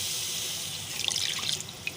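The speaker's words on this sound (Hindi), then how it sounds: "1 कप पानी डाल दिया हमने।" A cup of water is poured into a karahi holding meat for green chicken karahi, a steady close gush and splash that breaks into brief trickles and drips near the end.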